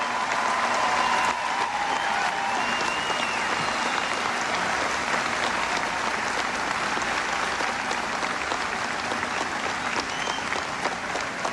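A large crowd at a 1996 election night speech breaks into long, steady applause for Senator Dole, a dense roar of clapping that holds at a constant level with faint cheers woven through.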